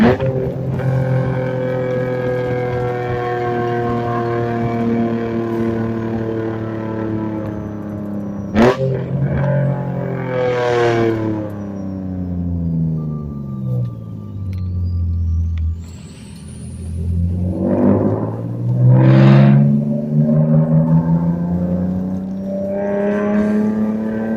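A Nissan 350Z Roadster cruises along, its engine droning steadily with pitch sweeping up and down through shifts, a few louder revving surges toward the end, heard from inside the car with no talking.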